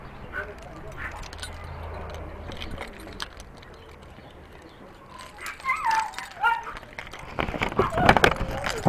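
A dog barks and yips in short bursts that grow louder toward the end, with a person speaking in between.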